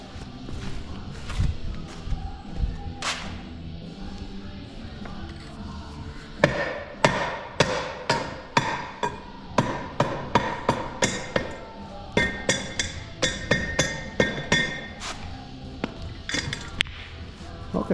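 Hammer blows strike the rear brake assembly of a Honda Civic, a run of sharp metallic clanks and taps at an uneven pace, close and loud, with softer clattering of parts between strikes.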